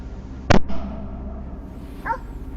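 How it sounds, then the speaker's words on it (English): Hunting dogs bark in a forest during a wild boar chase: one sharp, loud bark followed by a softer echoing one, then a faint, distant yelp after a pause over a low rustling background. "try to stay close to the sound of the barking dogs"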